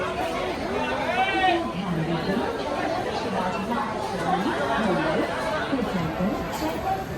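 Passengers crowd a railway platform as a train arrives, their steady babble of overlapping voices filling the space, with one louder nearby voice talking over the constant hubbub.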